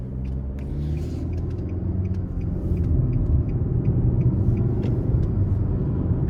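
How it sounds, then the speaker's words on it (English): Engine hum from a 2024 Nissan Altima S with a CVT while driving: a steady low rumble with road noise that swells slightly partway through, no voices. "the sound that I get from the engine, the transmission, I actually like"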